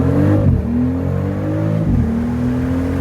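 A BMW X3 M50 SUV launches hard from a standstill, its engine roaring loud and close with rising revs, a brief gear-shift dip near the start and another about two seconds in before the pull continues.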